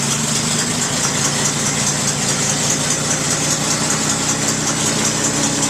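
A 1921 Paige car engine idles steadily after starting, a loud, even low mechanical running with a consistent rhythmic chug and no pauses.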